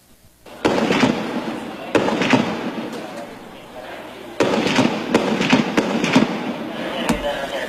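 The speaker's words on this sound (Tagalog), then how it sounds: "Ang pinuputukan ng armored vehicle ay ang pwesto ng mga nagtatagong sniper ng Mauti Group sa Marawi City." Gunfire from an armored vehicle aimed at hidden sniper positions during a military operation in Marawi City: loud sharp reports in bursts with a few isolated shots, fairly close, over a rumbling background.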